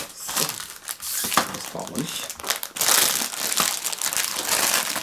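Thin plastic packaging around a part for a DeAgostini R2-D2 model kit crinkles and rustles as it is wrapped back up, close and fairly loud in busy bursts for about five seconds.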